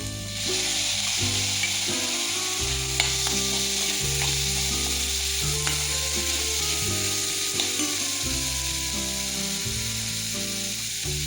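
Mixed vegetables for veg momos stir-fry in a pan, a loud continuous sizzle with occasional scrape and tap of the spatula, steady throughout with background music and no speech.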